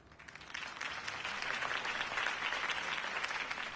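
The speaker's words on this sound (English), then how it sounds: "could have heard that applause" Crowd applause after a campaign speech in a video game's city setting, a steady dense wash of clapping that swells in within the first half-second and holds loud and continuous to the end.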